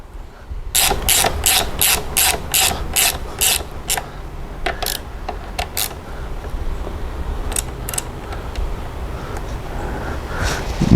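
A ratchet wrench tightens a 10mm Allen bolt on a brake lever adapter for a Ducati Panigale V2, giving rapid crisp clicks in quick bursts, then scattered slower clicks, close and clear over low background noise.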